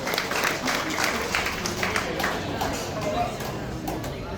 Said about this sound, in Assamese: এটা ডাঙৰ হাত চাপৰি দিয়া